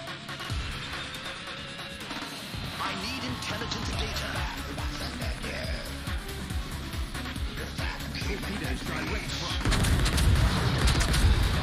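Naval video game battle in which battleship artillery fires as repeated heavy booms and rumbling salvos, close and loud throughout, swelling into a denser barrage near the end, with someone talking over it.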